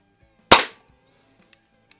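An old Eisenwerke Gem No. 13 pellet gun fires a single sharp, loud crack inside a garage, followed by a short decaying echo and a few faint small clicks afterward, with no talking.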